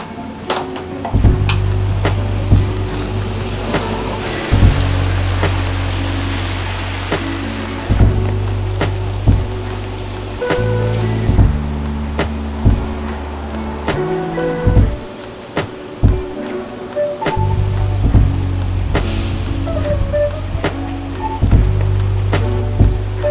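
Rain falls on a Boston street in a steady, even patter, with low rumbling city noise and occasional clunks from nearby activity running underneath.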